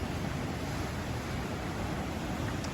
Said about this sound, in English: I'm gonna sit here a while and listen to the waves